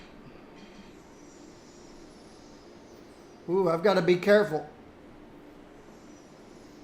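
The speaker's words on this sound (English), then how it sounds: "There's a subway running under here." A subway train in the Cities: Skylines city-building game rumbles past underground, a brief loud rush with rattling wheel noise lasting about a second, while a person speaks over it.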